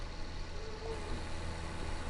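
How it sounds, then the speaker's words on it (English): A loud tractor engine from Farming Simulator 19 on the Ellerbach map, a steady low idling rumble that holds evenly throughout, with no voices over it. "We'll say this is a loud freaking tractor."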